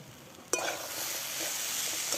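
Ground coriander and cumin are stirred in a hot pan for ghugni, a sharp scrape at the start giving way to a steady frying sizzle and faint spatula scuffs, close and fairly quiet.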